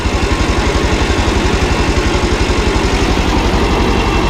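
Kubota tractor engine chugging at low speed, a loud close diesel putter with a fast steady pulse and a constant mechanical vibration, no talking.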